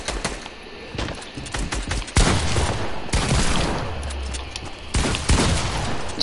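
Rapid bursts of automatic gunfire from the Fortnite video game, dense and loud, with fusillade-like volleys stuttering through the whole stretch and a brief lull before the firing resumes.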